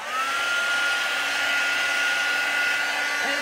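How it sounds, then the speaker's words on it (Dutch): Steady loud whirring of a heat tool blowing hot air to dry paint, constant and close with a faint high whine, no talking. "En dan gaan we het nog een keer drogen."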